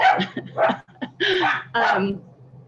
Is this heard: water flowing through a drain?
no